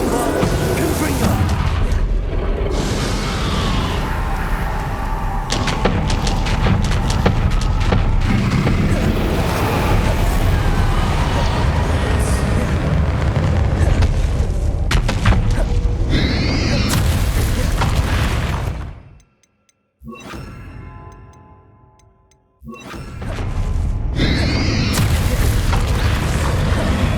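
Spell explosions in Hogwarts Legacy, heavy booming blasts and crackling magical effects with dense rumble, continuing almost without a break before a brief near-silent gap and a return of the clamor.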